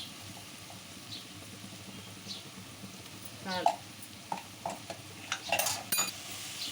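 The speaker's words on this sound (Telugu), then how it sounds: "ఇవన్నీ వేసుకొని ఒకసారి కలుపుకుందాం" A spoon stirring chili powder, coriander powder and garam masala into a beans and potato curry in a pan, soft scraping and metallic clinks growing busier over a faint sizzle, with a voice talking.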